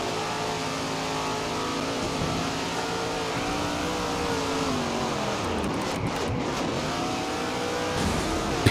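A race car engine in rFactor 2 at Stafford Speedway drones steadily and loudly, its pitch sweeping down and back up as it revs through gear changes, with no talking.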